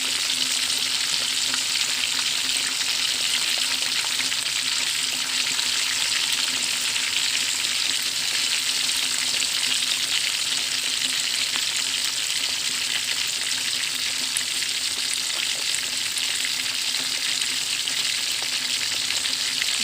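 Pork belly deep-frying in hot oil for lechon kawali gives a steady, even sizzle with a soft bubbling hiss that holds at a constant level throughout, close up, with no voices.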